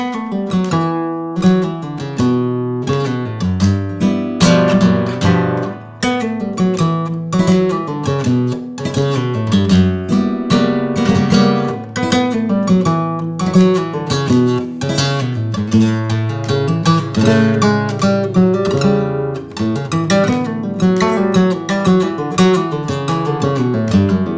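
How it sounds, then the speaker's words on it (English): Fast, intricate flamenco guitar melody, a Tarantos falseta, played solo, with rapid plucked runs punctuated by sharp strummed chords, lively and close. "That melody and versions of it, that falseta, I should say, is the Tarantos falseta for Escobilla."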